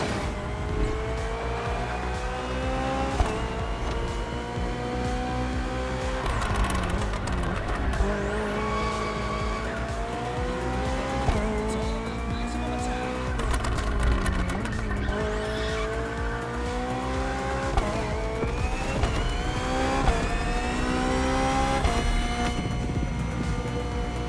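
BMW hybrid V8 race car in The Crew Motorfest roars continuously at high revs, pitch climbing through gears with abrupt shifts, tires squealing through corners, loud and close with no talk.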